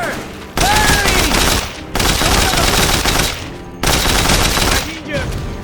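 Sustained bursts of automatic gunfire from the video game Mercenaries 2: World in Flames, loud and close, coming in three long volleys with short gaps between them.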